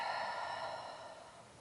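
A slow pilates exhale pushed out through the mouth, a soft steady breathy rush close to the mic that gently fades over under two seconds, with no talking.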